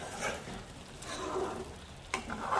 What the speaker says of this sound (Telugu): దీన్ని కలుపుకుందాం.